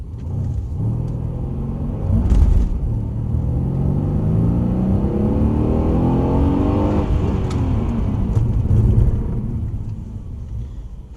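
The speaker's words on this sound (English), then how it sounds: "You see when you're a bit harder on the brakes initially, how quickly the car stops." A car drives on a road, its engine rumbling and whirring as it accelerates, builds to a peak, then eases off under hard braking. No one speaks.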